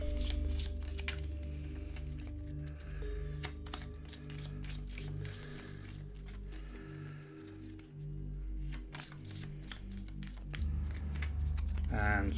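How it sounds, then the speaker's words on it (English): A deck of weapon cards shuffled during a tabletop game, steady riffling and flicking strokes running throughout, close and fairly quiet over a low background hum. "let's just do a shuffle of the old weapon deck"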